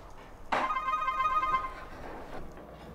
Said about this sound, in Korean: 전화 소리에 당황하는